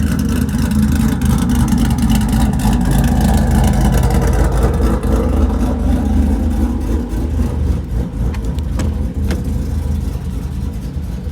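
Ford Mustang GT V8 exhaust with a ghost cam tune, a loud, continuous deep rumble with choppy lope throughout, holding steady before easing slightly near the end, with no voices.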